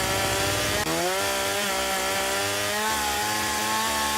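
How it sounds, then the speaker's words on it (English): Chainsaw in the game Junkyard Truck running steadily as it cuts into a tree, with a loud, continuous, buzzing engine drone that shifts pitch slightly under load after a brief start. "You hear my chainsaw right now? How it's just constantly going like it's cutting something?"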